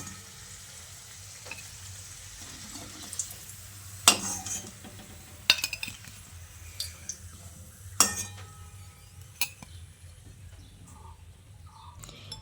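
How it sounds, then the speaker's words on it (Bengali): Lightly browned fried potatoes are strained out of a pan of hot oil for stuffed aloo dum, with a continuous soft sizzle broken by several sharp metallic clinks of the utensil against the pan. "এবারে আলুগুলো ছেঁকে তুলে নিচ্ছি।"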